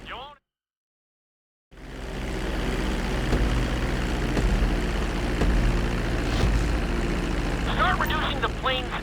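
Airplane in Grand Theft Auto V flight school descending toward a runway: a steady, loud engine drone fills most of the clip after a brief silent gap, with a short voice-like burst near the start.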